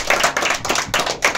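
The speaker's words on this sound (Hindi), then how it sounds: "ताली हो जाए इनके लिए।" Dense applause from a studio audience, many hands clapping together in a fast, continuous patter, loud and near, with no talk over it.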